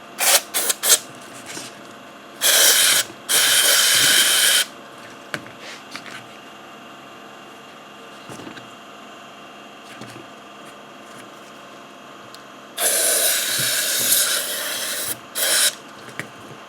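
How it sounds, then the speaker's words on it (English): Short hissing bursts of aerosol cleaner sprayed into the blower motor harness connector of an Audi Q5, three main blasts with a few tiny puffs between, close and fairly loud against a quiet garage background. "let me spray some cleaner in here as well"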